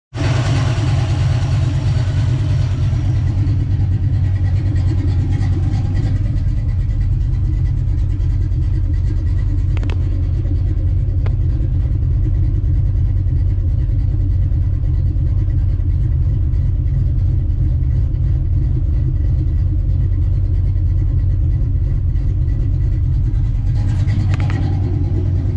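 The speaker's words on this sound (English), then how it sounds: "So I'll get the car started up, get it warmed up" A small-block Ford 306 V8 with a Holley double-pumper carburetor starts and settles into a steady, loud, rumbling idle that runs close and unbroken, with a few slight rises in revs along the way.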